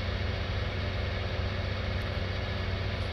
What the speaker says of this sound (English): we are at full throttle. Pulling. It's bogging down a little bit, but 400 horsepower, it can do it. Come on, John Deere.